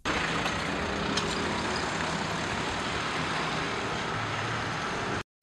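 Slow, heavy traffic rolls along a boulevard in Konacık eroded by floodwater, a steady broadband rumble of engines and tyres at moderate distance, continuous for about five seconds before cutting off.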